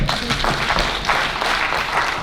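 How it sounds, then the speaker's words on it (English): Dense, steady applause from a seated audience at a meeting, a continuous wash of many hands clapping at even loudness throughout with no pauses. "Can we clap for them?"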